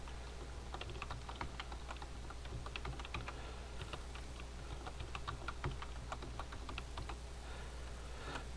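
A password is typed on a computer keyboard during setup of web-filtering software: a steady run of light, irregular keystroke clicks over a low constant hum, with no speech.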